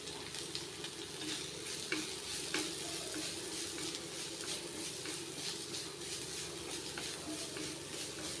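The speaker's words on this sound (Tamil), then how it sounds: "இப்போ நல்லா வதங்கிடுத்து. கொஞ்சமாக குட்டியாக நம்ம கேரட் சீவி வச்சுருக்கோம்," Grated carrot and vegetables sautéing in a pan for sweet corn soup, a steady soft sizzle with faint stirring scrapes throughout, no voices.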